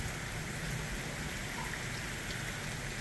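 Steady rain falling under bright Florida sunshine, a dense even hiss of drops on surfaces, moderately loud and continuous with no voices.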